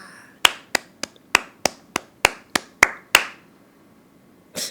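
Bare hands clapping: ten sharp, close claps in an even rhythm, a short silence, then one more clap.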